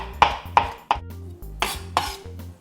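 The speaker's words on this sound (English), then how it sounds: "So now we'll give these a nice little chop" A knife chopping cleaned vegetables on a board: about seven sharp, distinct knocks at an uneven pace, close and clear, with no voices.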